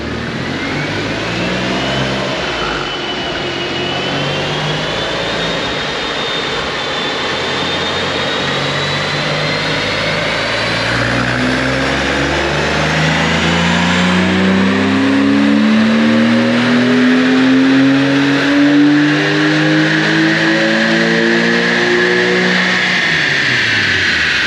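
A 2000 Porsche 911 engine on a dyno, loud and close, revving up in a long steady climb, its pitch rising over many seconds, then dropping back briefly near the end.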